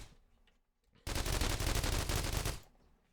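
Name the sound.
turrets firing at zombie raid, from video game The Walking Trade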